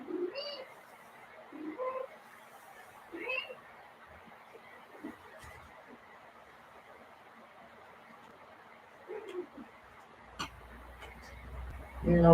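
A cat meowing indoors in a quiet room where a yoga session is under way: four or five short, rising calls spread over several seconds, fairly faint, with a few light knocks and rustles between them.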